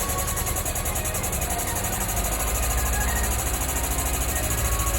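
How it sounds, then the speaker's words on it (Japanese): A Mazda NA Roadster engine fitted with OER 45mm racing carburetors idles steadily with a rough, rhythmic chugging and a faint knocking pulse, holding a constant loud drone throughout. "とりあえずエンジンがかかった。"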